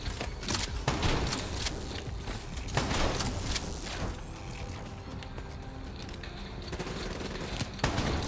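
Dense gunfire in Call of Duty Black Ops 3, including shotgun blasts, forms a loud, continuous barrage of shots and clattering game effects with no clear breaks.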